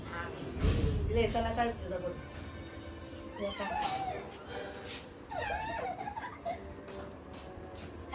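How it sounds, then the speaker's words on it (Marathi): A house cat meows several times in rising, drawn-out cries close by, while people talk and laugh over it at a family birthday. "बघ पूजा माऊ आली"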